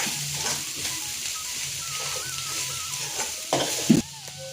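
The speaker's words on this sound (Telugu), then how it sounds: "చూసారుగా, వెల్లుల్లి కారం కూడా వేగుతుంది" A steady oil sizzle crackles in a pan as garlic chili paste fries, with occasional stirring scrapes and a clink near the end.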